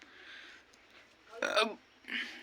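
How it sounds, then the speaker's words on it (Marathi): A single short burp rising abruptly from quiet room tone, close and fairly loud, followed by a faint breathy sound. "बघा ढेकर सुद्धा आले."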